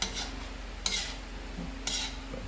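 A spoon stirs ginataan gulay with string beans in a pot. It scrapes steadily against the metal, with two louder clanks against the rim, while a low simmer hums underneath.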